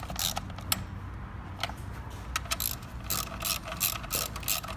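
Ratchet wrench clicking as 10mm bolts are tightened on a 2013 Kia Sorento engine during a spark plug change, with close, rapid bursts of ratcheting and short pauses between strokes.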